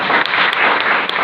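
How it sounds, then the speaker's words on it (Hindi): A Hindi-speaking audience at a wellness company awareness event claps loudly and densely, a close, continuous burst of many hands with a few sharper claps standing out. "मैं चाहूंगी एक जोरदार तालियां इस संस्था के नाम"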